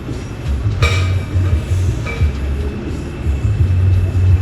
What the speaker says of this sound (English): Train a move, you know.